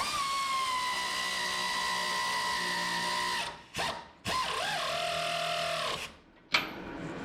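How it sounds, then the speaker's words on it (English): An air ratchet runs up steadily with a high whine while snugging fine-thread suspension bolts on a Bricklin SV1, close and loud, with brief pauses between the bursts. "I'm going to use an air ratchet to speed this up"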